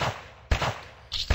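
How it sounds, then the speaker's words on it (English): Pistol fired in a zombie-wave shooter video game: a few sharp, separate shots with short gaps between them, close and moderately loud, and no talking. "Pistol."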